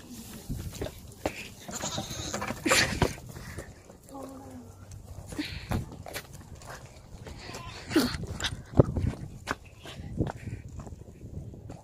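Goats on a farm bleat several times at close range amid rustling and shuffling sounds, with people speaking quietly nearby.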